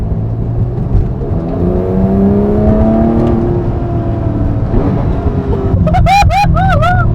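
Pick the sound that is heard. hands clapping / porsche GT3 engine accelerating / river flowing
porsche GT3 engine accelerating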